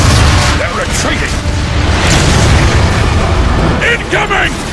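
A warp cannon shells a plaza in the video game Transformers: Fall of Cybertron, producing loud, dense rumbling blasts and bursts that continue without a break, with voices heard in the mix.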